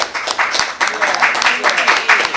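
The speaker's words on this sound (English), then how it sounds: "if you all would give him some applause, I would appreciate it" Applause from those gathered at a town council meeting honoring a former deputy chief, a steady patter of many hands with voices mixed in throughout.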